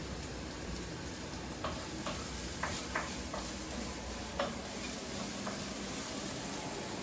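Onions fry quietly in a pan while cooking a lamb and rice dish, a steady soft sizzle with a few faint ticks and pops scattered through it, heard without any talk.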